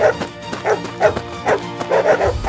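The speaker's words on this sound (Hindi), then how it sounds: "कुछ जंगली कुत्ते आर्यन के पीछे पड़ जाते हैं।" Cartoon wild dogs bark repeatedly in a rapid, agitated rhythm, several yips and bow-wows stacking close and loud with a whimpering edge, no talk over them.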